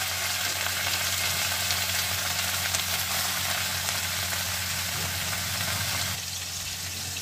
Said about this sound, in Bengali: কড়াইতে সর্ষের তেল দিয়ে দিয়েছি, তেলটা গরম হয়ে গেলে এর মধ্যে ফোড়নে দিয়ে দেবো কালো জিরে।